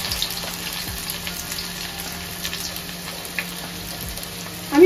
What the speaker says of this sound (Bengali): তেল আমার গরম হয়ে গেছে, পেঁয়াজ দিয়ে দিলাম।